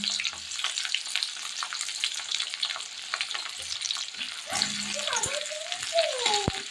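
Chopped onions hit hot oil in a pan for a Bombay duck fish curry, giving a close, crackling sizzle with spatula scrapes and stirring clatter throughout.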